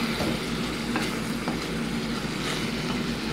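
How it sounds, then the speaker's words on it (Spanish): Tuna being stirred into cooked rice in a pot with the flame off, a steady close scraping and mixing texture with faint rhythmic scrapes throughout, no talking. "Y lo voy a mezclar con mi arroz."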